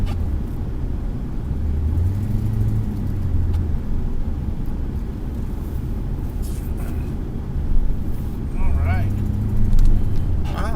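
A car engine rumbles steadily while the vehicle backs out into a snowy street, a low continuous drone that swells toward the end, with people talking over it.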